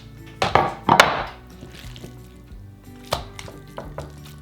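Seasoned pork is mixed and spread onto baking sheets, giving a few sharp metallic clanks and scrapes early on, then quieter wet shuffling and occasional knocks against the pans.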